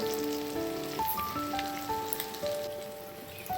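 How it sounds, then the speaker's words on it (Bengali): Ground spices are tipped into onion masala frying in a wok for an egg and potato curry, giving a steady close sizzle with a soft crackle under background music. "এবার আমি এই কড়ার মশলাতে যেটা কষানো হচ্ছে সেটার মধ্যে এই গুঁড়ো মশলাগুলো দিয়ে দেব"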